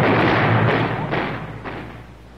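A 1960s army tank's main gun firing a high-explosive round at a bunker: a loud, deep thump with a broad blast that decays over a couple of seconds, followed by faint rumbling echoes.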